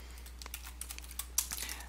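Keystrokes on a computer keyboard during a PHP debugging session in Vim, a loose, irregular run of soft taps with one sharper strike near the end, faint and close over a steady low hum.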